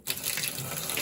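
Water running from a Tuscany shower valve with its cartridge removed, a steady close hiss of flow that starts abruptly and holds even for about a second.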